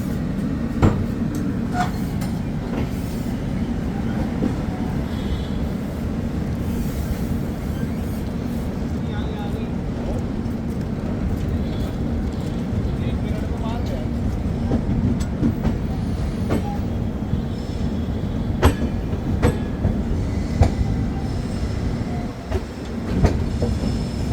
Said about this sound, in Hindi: तो हमारी ट्रेन थोड़ा सा लेट डिपार्ट की थी।